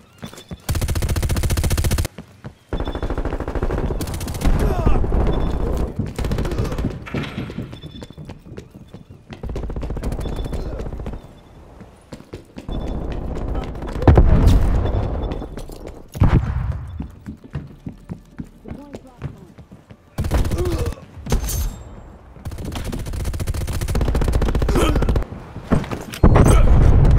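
Gunfire in Call of Duty Cold War multiplayer, loud bursts of automatic fire and single shots in clustered volleys separated by short gaps, with a few brief spoken callouts.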